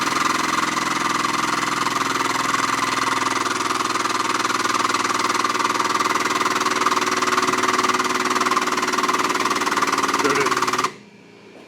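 A special mullion cutter machine runs up steadily to take out pre-travel, a loud continuous motor hum and whine with a vibrating mechanical drone, cutting off abruptly near the end.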